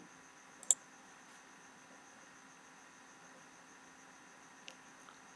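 A computer mouse gives one sharp, close click near the start, then a few fainter clicks later, separated by quiet with a soft electrical hiss and hum.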